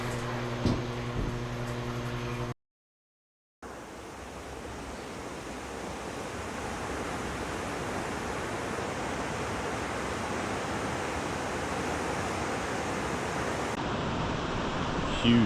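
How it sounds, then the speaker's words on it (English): A huge stretch of river rapids roars with a continuous, broadband rushing of water, loud and steady, with a brief dropout early on. "Huge rapids area."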